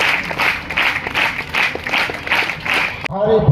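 Audience applause at a fancy dress competition in Kamdara: steady, dense clapping from a crowd with rhythmic swells for about three seconds, then it stops abruptly and a voice speaks near the end.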